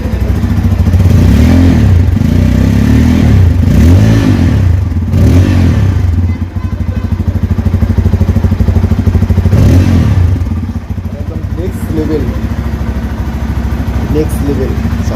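A Bajaj Pulsar N250 motorcycle with a twin silencer idles close by and is revved several times in short bursts, each rising and falling back to a throbbing idle.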